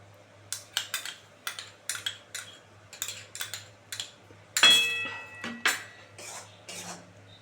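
A spoon scrapes and knocks around a pan of prawn-paneer malai curry with beaten yogurt over a low flame, about a dozen crisp, close strokes in an uneven rhythm, with no talking.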